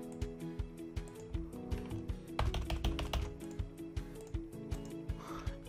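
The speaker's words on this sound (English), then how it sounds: "So what I'm going to do is to type" A command is typed on a computer keyboard, giving a steady run of crisp, close key clicks in an even rhythm, with a denser burst of keystrokes midway.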